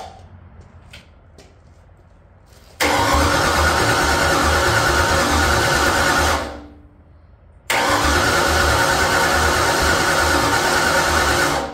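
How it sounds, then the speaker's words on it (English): An electric fuel pump on a Small Block Ford 302 whirs loudly and steadily after a few faint clicks, cuts off briefly, then starts again and keeps running. "here we go, fuel pump on."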